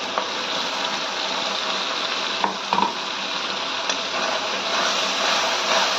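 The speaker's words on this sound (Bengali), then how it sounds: "মশলা দিয়ে ভালো করে মিশিয়ে নিয়ে আরও 2 মিনিট ভালো করে কষিয়ে নিতে হবে" Ground spice paste sizzles steadily in a hot pan for chole, with occasional scraping knocks of a spoon stirring it through; a continuous close frying hiss with no talking.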